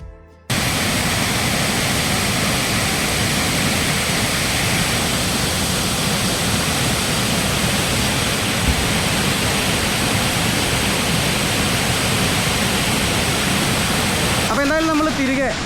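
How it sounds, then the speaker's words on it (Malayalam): The Areekkal waterfall at Mannathoor roars in monsoon flood as a dense, unbroken rush of white noise, loud and constant. Near the end a brief voice or whistle-like sound rises over it. "ഈ ഒരു മൺസൂൺ ടൈം ആയതുകൊണ്ട് തന്നെ നമുക്ക് ആ ഒരു വെള്ളച്ചാട്ടം നല്ല നല്ല പവറിൽ നമുക്ക് കണ്ട് ആസ്വദിക്കാൻ പറ്റുന്ന ഒരു ടൈം കൂടെയാണ്"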